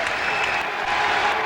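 A crowd at a professional bowling match applauds and cheers, a loud, continuous roar of clapping and voices filling the space without pause.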